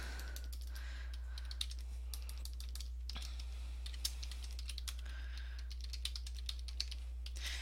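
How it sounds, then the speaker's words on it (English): A computer keyboard is typed on for a journal entry in quick, uneven bursts of light clicks, with short pauses between keystrokes, quiet and close, with no talking. "so you'll go ahead and type it in here"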